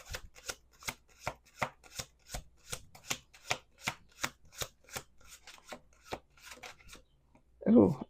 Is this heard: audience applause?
no